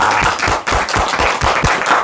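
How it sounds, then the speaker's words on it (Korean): An audience claps for a questioner at a talk on Buddhist liberation, loud close rhythmic clapping with distinct beats and brief dips between bursts. "큰 박수 부탁드립니다"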